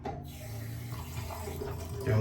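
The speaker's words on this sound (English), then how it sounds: "Just sticking it on the faucet as I usually do." A bathroom tap runs steadily into a sink while a shaving brush of sandalwood shaving cream is rinsed, a close, continuous splashing rush that swells louder at the end.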